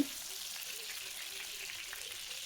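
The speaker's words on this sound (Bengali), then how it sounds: "আমার কিন্তু সয়াবিনগুলো প্রায় ভাজা কমপ্লিট হয়ে গেছে" Soft, steady sizzle of soybean chunks frying in oil, fairly quiet and even throughout, with no talking.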